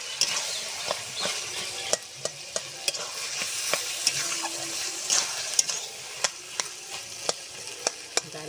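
Potato curry simmering in a covered pot, a steady broadband bubbling and hissing with frequent small sharp pops and clicks, close and moderately loud, no voices.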